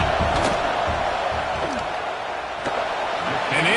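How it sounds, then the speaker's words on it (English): A football stadium crowd roars steadily during a field goal try in the Auburn vs Louisville game, a dense wash of cheering and noise with an announcer talking over it. "This crowd trying to do its part to get inside the kicker's head."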